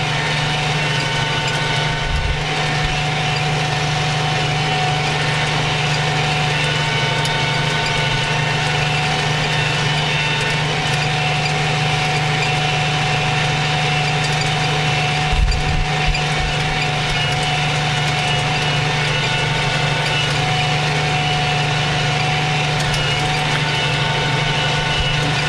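A tractor engine runs steadily at around 1,500 RPM while driving with a plow, giving a loud, constant drone close by with a couple of brief low bumps, and no talking over it.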